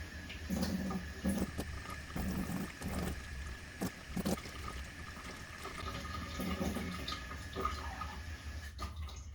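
Water runs steadily from a household tap while it slowly warms up during a Samsung Flexwash washer leak repair, a continuous low rushing flow with occasional knocks and clicks, moderately close.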